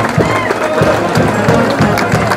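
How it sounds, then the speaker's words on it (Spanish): Festival crowd at a Negritos de Vicco celebration in Pasco claps steadily, a loud continuous patter of many hands with scattered cheering and voices in the mix throughout. "¿Dónde están los aplausos?"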